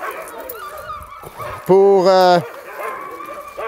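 Sled dogs in a training yard before a run, giving a loud burst of yelping, whimpering barks near the mic, with someone speaking French around it.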